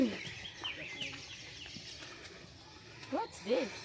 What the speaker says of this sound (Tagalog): Ang peaceful nung huni, no?